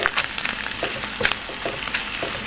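A cumin spice mix sizzles in a pan for a cabbage curry, a steady, close hiss of frying with small crackles and faint stirring.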